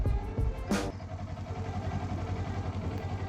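A motorcycle cruises along a road on a nice-weather ride, its mid-pitched engine droning steadily under wind rush, with a brief whooshing gust early on and no talking.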